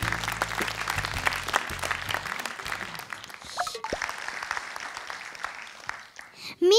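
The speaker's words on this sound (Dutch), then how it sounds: "Nou, applaus voor zichzelf." Audience applause at a Dutch-language speaking event, a continuous close patter of clapping hands that holds for several seconds, with a few voices mixed in.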